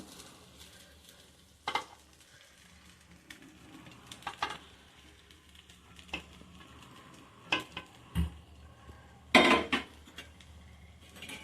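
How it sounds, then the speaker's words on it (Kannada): Cooked rice being fried and stirred with turmeric masala in a pan for chitranna, heard as intermittent clinks and scrapes of a utensil against the pan over a faint low sizzle, with a few louder clattering bursts near the end. "ಆಮೇಲೆ ಈ ಥರ ಫ್ರೈ ಮಾಡಿ ಈ ಥರ ಚೆನ್ನಾಗಿ ಮಿಕ್ಸ್ ಮಾಡಬೇಕು."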